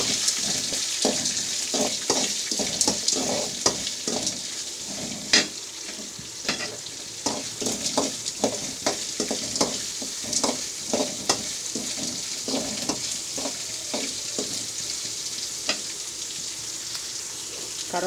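Sliced onions fry with browned chana dal in hot oil, a constant close sizzle punctuated by frequent rhythmic scraping and clacking of a spoon stirring the pan, with no talking.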